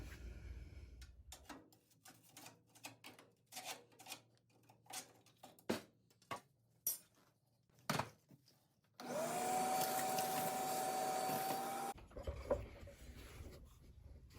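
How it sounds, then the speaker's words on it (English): A shop vacuum clears a rat's nest out of an Early Bronco during restoration, preceded by scattered knocks and rustling of debris, then a loud steady whine for about three seconds before cutting off. "we'll start vacuuming it out too"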